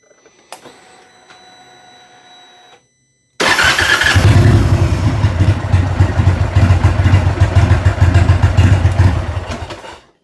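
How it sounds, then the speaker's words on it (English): Harley Davidson motorcycle starter cranking and the engine catching, loud and close. A faint tonal whir comes first, then a pause, then a sudden, sustained roar with heavy low rumble for several seconds before it fades. "that's the starter, and specifically the sound of the starter."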